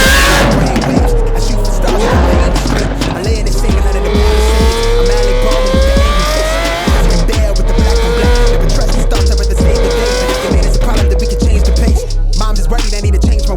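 A Lamborghini Aventador SVJ V12 with the RDB Signature Exhaust version 2 revs loudly nearby, its engine note rising and falling in repeated pulls under a constant growl.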